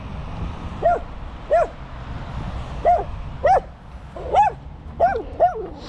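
A dog barks in short single yelps at a roadside scene in the woods, about seven fairly close barks spaced irregularly over a low background rumble.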